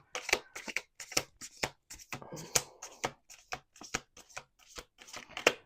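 Close, crisp bursts of a deck of cards being riffled and shuffled repeatedly, sharp flutters separated by short pauses.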